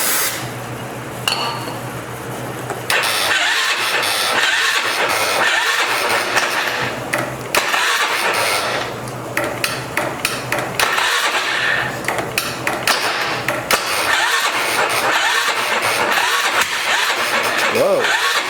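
2003 Polaris Sportsman 500 ATV with a swapped engine and a faulty starter solenoid: repeated bursts of engine cranking and whirring, starting and stopping, with clicks and mechanical clatter, loud and close, with a voice at times.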